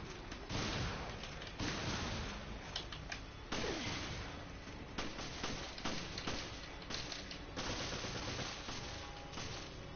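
Gunshots from Resident Evil Revelations crack out one after another, loud, close and punchy, with a steady run of shots and thuds and little talk over them.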